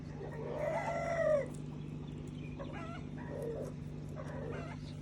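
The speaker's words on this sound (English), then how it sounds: "And this is my chicken." A chicken crows loudly in a kitchen garden, one long crow up front followed by softer clucks and calls, with a steady background hum throughout.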